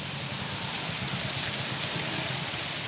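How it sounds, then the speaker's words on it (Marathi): Heavy rain falls as a steady, even hiss of dense drops, continuous and unchanging at a moderate distance. "भरपूर पाऊस पडतो"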